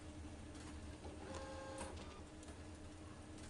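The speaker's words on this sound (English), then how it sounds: "We just get to hear this printer going off." An office printer runs steadily in a Better Call Saul television scene, a continuous mechanical whir and rattle holding at an even level throughout with no voices over it.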